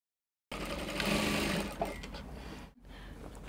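A sewing machine stitches a half-inch seam joining dress lining to lining, starting after a brief silence with a fast, loud mechanical whir, a short pause near the end, then resuming.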